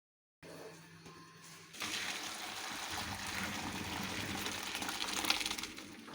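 Rice and water poured into a strainer while cooking sour cherry pilaf, a steady rushing, splashing pour that starts abruptly and runs continuously, close and fairly loud, after a short quieter trickle.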